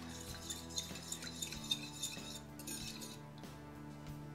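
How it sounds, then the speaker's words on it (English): Salt and sugar are mixed together in a bowl, with faint metallic clinks and light scraping of a utensil against the dish over a low background hum, and nobody speaking. "And mix all of that together."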